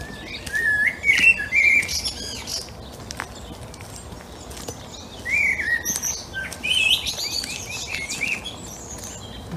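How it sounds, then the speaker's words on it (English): A blackbird sings from a plane tree amid a flock of sparrows, its fluting phrases coming in two clear bursts over a steady background of chirping and outdoor noise. "Very vocal blackbird"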